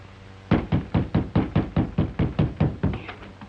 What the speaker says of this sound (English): Knock again, louder.